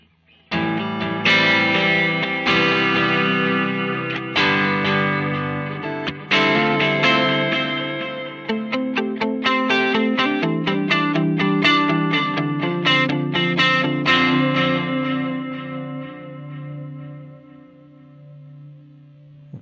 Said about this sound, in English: I'm on the tape echo setting.